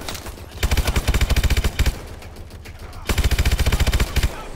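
Automatic gunfire in Call of Duty: Advanced Warfare: two loud, close bursts of rapid, evenly spaced shots, the first burst longer, separated by a brief lull with a quieter clatter.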